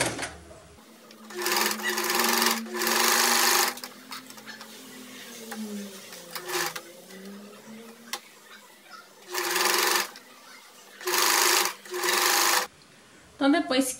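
A sewing machine stitches a blouse facing in several distinct bursts of loud, steady whirring separated by quieter pauses, with a voice talking between runs.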